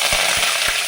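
Mustard seeds and curry leaves fry in hot oil with a steady, close sizzle. A few soft low thumps sit underneath, with no talk.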